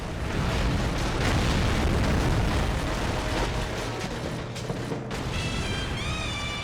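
Explosions and destruction in the video game 007: Agent Under Fire during an on-rail shooting mission, heavy rumbling blasts and crashing debris that fill the mix, ending with bright electronic tones.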